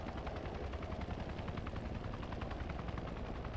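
Helicopter engine running up in Arma 3, a dense steady rotor thump with rapid regular chopping pulses over a low roar, continuous and fairly even throughout.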